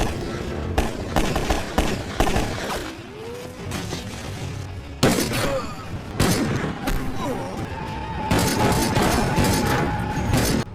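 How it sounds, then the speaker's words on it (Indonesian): Gunfire from a tattooed gang in the action film Falcon Rising: repeated sharp bursts and cracks over a busy film soundtrack, loud and close, with vocal sounds mixed into the action. "Lalu disusul segerombolan orang bertato yang menembakkan senjatanya ke arah John."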